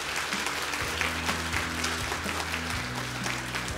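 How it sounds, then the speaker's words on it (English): An audience applauds award winners at an ASUS launch and creator conference, a steady, dense clapping over a sustained musical backdrop. "Now let's give them all a round of applause"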